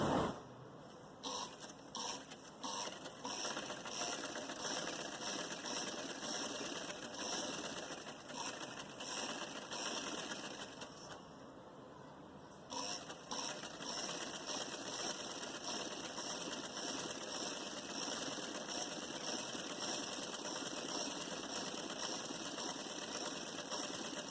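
Sewing machine running steadily while stitching net fabric with long stitches for a frilled blouse neckline, a continuous close whirring hum with a brief slowdown midway, no voices.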